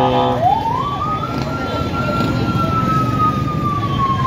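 An ambulance siren winds up into a long, sustained wail, loud and close, over the hum of traffic at a road accident scene in Naic, Cavite.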